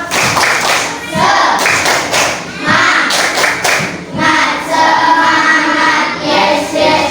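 A classroom of students performs a rhythmic spirit clap, loud bursts of patterned hand claps in quick groups separated by short pauses, with a few voices chanting along near the end.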